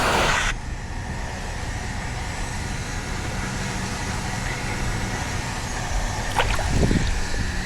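Blower pushing air through inground swimming pool plumbing lines, heater and salt cell during winterizing: a loud, steady roaring whoosh that holds evenly throughout with no talk.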